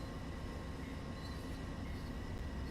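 A P42DC diesel locomotive in a train simulator game pulls to a stop at a red signal, giving a steady, loud, continuous low rumble and mechanical rail noise with no voices.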